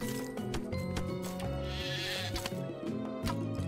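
Sheep bleating in the crafting game Craft The World, short calls over busy game music and effects, with no talking.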